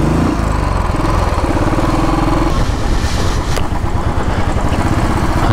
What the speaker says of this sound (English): I'm gonna park my bike here itself.